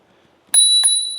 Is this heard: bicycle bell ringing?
yes